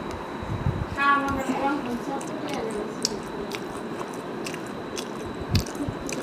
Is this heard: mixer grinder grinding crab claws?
no